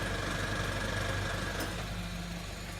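Under the hood of an idling 2014 Honda Civic, the radiator fan kicks on amid air-conditioning noise, adding a whooshing rush over the steady engine hum partway through.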